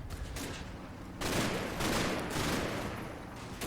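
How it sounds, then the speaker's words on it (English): Mortar fire and gunfire crackle in a World War II Normandy battle in the game Combat Mission Battle for Normandy, aimed at a church compound, a continuous rumbling barrage that swells louder partway through and stays distant. "So I'm going to be dropping mortars in that church compound."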